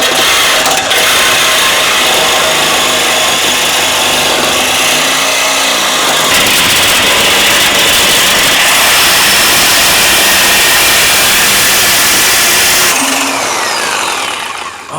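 A Sawzall reciprocating saw cuts through the exhaust restrictors on a turbo V12 Mercedes, a loud harsh continuous buzzing and grinding that runs steadily for about fifteen seconds with no talking.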